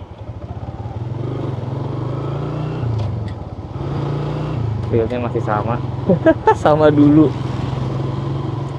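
A Suzuki Shogun SP motorcycle engine runs steadily while being ridden, a close, constant droning rumble with slight shifts in pitch, heard under someone talking throughout.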